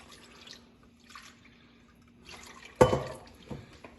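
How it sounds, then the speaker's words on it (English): Water is poured into a pan that holds sugar, giving a short splashing burst after soft background clatter, with a few drips trailing off, close and fairly quiet. "we're going to add 3 cups of water"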